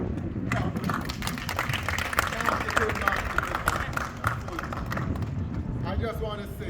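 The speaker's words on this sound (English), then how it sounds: "Give her a clap." An audience clapping for a woman at a gathering in Morant Bay, Jamaica, with dense, continuous hand claps and crowd voices mixed over them throughout.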